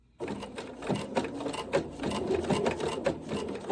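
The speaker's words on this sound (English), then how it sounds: "if my blanket stitch is too big, they'll crisscross a little too much" Sewing machine running a blanket stitch for appliqué, a steady mechanical chatter of needle strokes close up, with a few brief pauses and starts.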